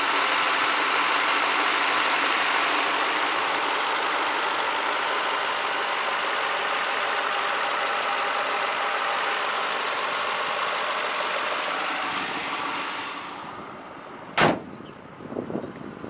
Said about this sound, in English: I haven't had any issues with the fan, so you can see it spinning right there.